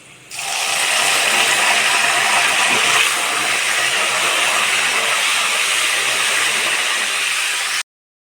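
Loud, continuous sizzling and crackling of salt water hitting hot oil while frying banana chips, starting abruptly and hissing steadily for several seconds before cutting off.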